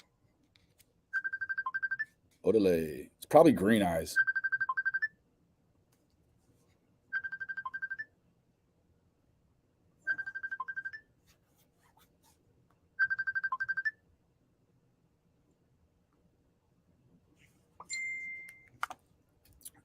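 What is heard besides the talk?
mobile phone ringtone going off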